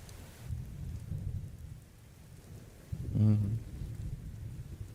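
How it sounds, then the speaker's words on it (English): A thunderstorm with steady rain falling outside, a low rumble of thunder swelling and cracking near the end, no voices over it. "Oh, it's stormy out."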